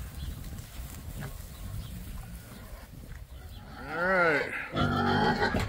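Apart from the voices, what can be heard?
pigs on a farm fighting over food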